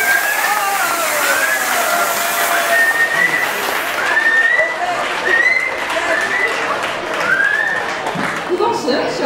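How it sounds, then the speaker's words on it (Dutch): An audience at a Glazen Huis charity event at Zwin College in Oostburg applauds in a dense, steady roar, with repeated whistles rising above it and voices mixed in. "Geef ze een daverend applaus"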